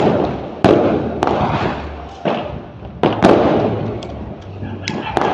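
Single-shot Diwali fireworks fired from a windy third-floor spot during Bandi Chhor Divas go off as a string of sharp, loud bangs and thumps, about half a dozen bursts spaced irregularly and close by.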